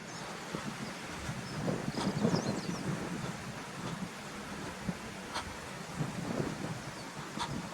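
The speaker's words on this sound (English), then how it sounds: "The wind's picked up a little bit" Wind blows outdoors through changeable showery weather, a soft broadband rush with gentle gusts and a few faint ticks, fairly quiet throughout.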